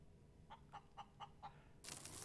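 A chicken in the video game Breathedge clucks five times in an even rhythm, fairly faint, before a louder burst of broadband noise takes over.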